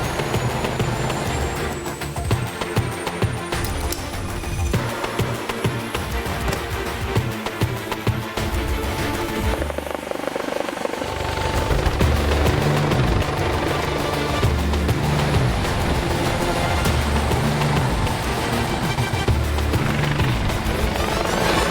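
An air ambulance helicopter starts up, its engine and rotors building into a loud, steady, close-up roar with a high whine, continuous throughout and with no talking.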